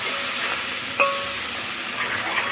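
Mint and coriander leaves being sautéed in a hot pan give a steady, close sizzle and hiss, with one brief utensil clink partway through and no voices.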